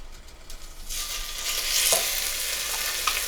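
Minced garlic fries in heated extra virgin olive oil in a pan, starting quiet and then swelling into a bright, close sizzle with intermittent stirring clicks and scrapes.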